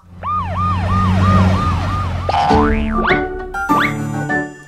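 A cartoon police car siren in a children's vehicle nursery rhyme, loud and close, with a rapid repeating wail that shifts into rising and falling swoops over bouncy springy cartoon effects.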